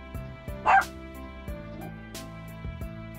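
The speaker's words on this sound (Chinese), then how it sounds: "小狗不叫咱就醒不了，小狗一叫了咱就醒了" A small dog barking inside a camping RV at night, a few short sharp yips spread over a few seconds, close and fairly loud over a low steady hum.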